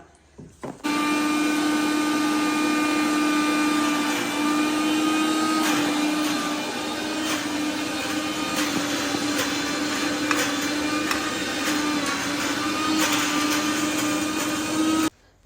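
A kitchen mixer grinder runs continuously for about fifteen seconds, a loud steady motor whine with a little rattling, starting abruptly and cutting off at the end, with no speech.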